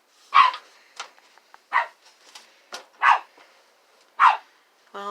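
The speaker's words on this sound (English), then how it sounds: "Well, I hear Woody barking" A dog barks in short, sharp bursts, about five loud barks spaced irregularly with quiet gaps between them, close to the listener and heard alone.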